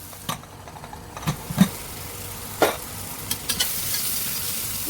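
Onions salted for vegetable pulao cook in a covered pan with a soft, steady sizzle, punctuated by a few brief knocks and scrapes of a utensil, quiet and with no talk.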